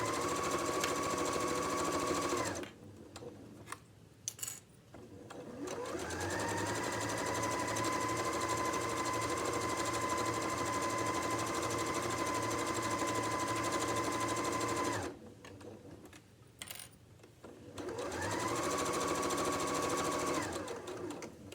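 A sewing machine stitches along the folded edge of an apron, running in two long, steady whirring stretches separated by a short pause, close and clear with no talking.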